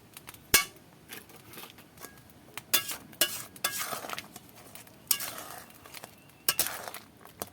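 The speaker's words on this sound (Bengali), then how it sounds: "চিনিটা দিয়ে একটু নেড়ে চেড়ে নেব" A spoon stirs sugar into bilimbi chutney in a pan, giving irregular scraping strokes and sharp metallic clinks against the pan at close range.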